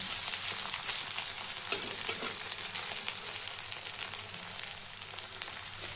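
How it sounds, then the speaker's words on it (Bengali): Mutton fat fritters frying in hot oil after being turned, a steady close sizzle with light crackle throughout and a few sharper pops, no talking. "একই রকমভাবে এই পাশটাও ভেজে দেব।"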